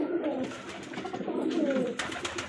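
Pigeons coo steadily in a pigeon loft, several birds murmuring close by in soft overlapping rolling calls that run throughout without pause.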